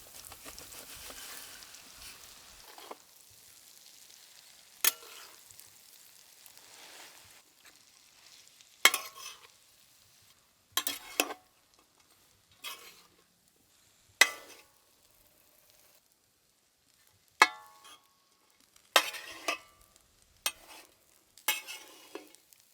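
Leftover chapati strips tossed into salted, spiced masala and stir-fried in a pan, with a series of sharp, separate scraping and clattering strokes after a soft opening sizzle, each stroke brief and fairly close, and no one speaking.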